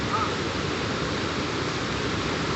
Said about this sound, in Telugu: ఇక్కడ వరకు వస్తున్నాయి నీళ్ళు.